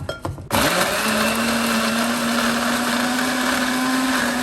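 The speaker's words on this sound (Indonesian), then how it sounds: "Kita blender jadi satu." A blender grinds turmeric, galangal, shallots and red chilies. After a brief rattle it starts up into a loud, steady motor whine that runs to the end.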